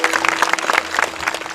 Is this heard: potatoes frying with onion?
no